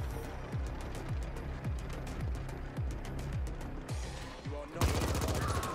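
Rapid bursts of PPSh submachine gun fire in The Ascent, a sci-fi shooter game, crackling in repeated volleys over a steady background of game noise, ending in a denser, harsher burst.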